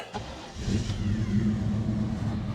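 A 1950 Lincoln car engine running and revving, a low rumbling mid-range engine note that swells after a short start. It sounds fairly close and steady, with no talking.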